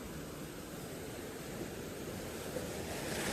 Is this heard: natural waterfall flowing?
yes